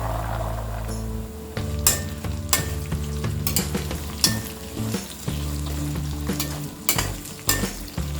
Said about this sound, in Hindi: और इसे मीडियम फ्लेम में हम फ्राई करेंगे